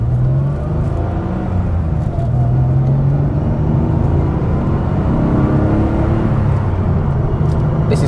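A Porsche 964 Carrera 4 pulls hard through the gears, a steady loud engine drone filling the cabin throughout with no speech.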